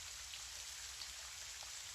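Gentle rain falls in a soft, steady, even patter, a quiet continuous wash of drops with no voices.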